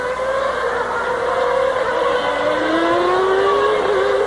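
Damon Hill's Formula One car in 1994 European Grand Prix qualifying, its high engine whine running steadily and then sliding in pitch as the driver lifts off the throttle, a continuous on-track roar with no talk.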